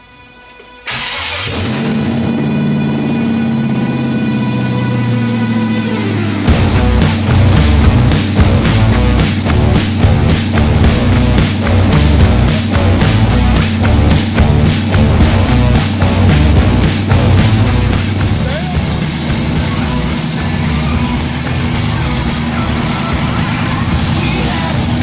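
An LS-swapped Jeep XJ engine starts and idles, then runs louder with steady revving as the Jeep is driven up onto a trailer, close and continuous, with people talking over the engine.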